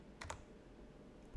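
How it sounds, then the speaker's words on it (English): A few quick keystrokes on a computer keyboard, faint and close, with a soft thump at the end in an otherwise quiet room. "Okay, I'm typing it in the chat."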